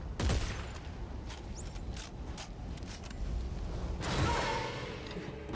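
Gunfire in the video game Dead Space 3, a few sharp shots and bursts with whooshing game effects, fairly quiet overall with a louder stretch near the end.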